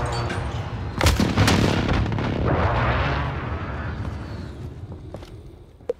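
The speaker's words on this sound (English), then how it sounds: "Friendly precision airstrike inbound." Loud rumbling explosions from a precision airstrike in a first-person shooter video game, a heavy blast near the one-second mark followed by sustained booming and debris that slowly fades over several seconds.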